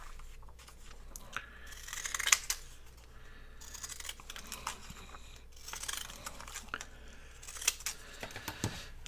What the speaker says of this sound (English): my little scissors don't cut every little bit of that white out